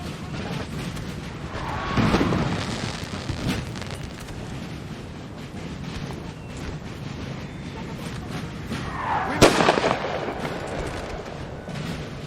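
Artillery fire in Napoleon Total War during a large 4v4 battle: two heavy rumbling booms stand out around 2 and 9.5 seconds above a continuous backdrop of distant gunfire and battle noise.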